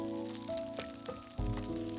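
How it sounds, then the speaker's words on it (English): Capsicum frying in a pan for malai paneer, a soft sizzle that swells suddenly into a louder, crackling burst of frying partway through, close and alone. "Now time to fry the capsicum."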